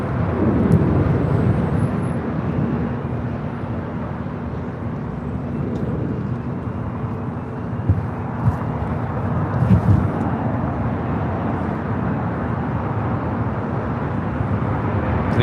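An airplane at LAX rumbles past in a steady, fairly loud engine roar, with a few brief clanks and knocks breaking through near the middle and end.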